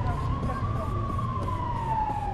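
A police siren wails continuously on a street in Barcelona's Raval district. Its steady tone drifts slowly downward, heard at moderate distance over low city rumble.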